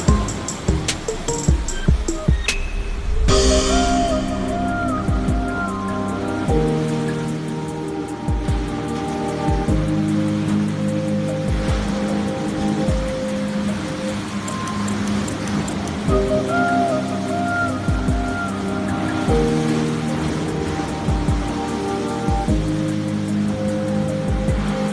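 High waves roll and surge at the Pekalongan coast in Central Java during tidal flooding, a continuous broadband roar of surf running throughout beneath sustained musical tones.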